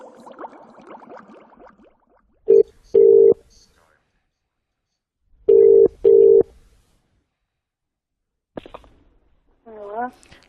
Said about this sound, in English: I had to call you on your landline because your Skype phone's not working.